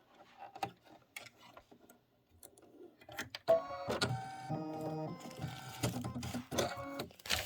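An embroidery machine stitches a design for a Kimberbell autumn project, starting with scattered clicks and taps. It then settles into a steady, rapid mechanical whirring and ticking, close and moderately loud.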